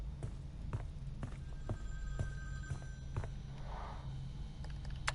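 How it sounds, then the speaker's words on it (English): A phone rings in the virtual cabin of Friday the 13th: The Game, a faint bell-like ring repeating under soft footsteps and light clicks. "so that we don't have to listen to this phone ring"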